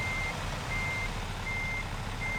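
Repeated reversing beeps from a semi truck in American Truck Simulator, evenly spaced tones sounding four times over a steady low diesel engine rumble, with no talking.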